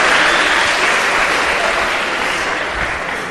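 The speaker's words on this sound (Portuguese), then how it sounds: "Palmas para o Viadão." Dense, sustained applause from a live audience, loud and close, clapping steadily throughout and easing off slightly toward the end.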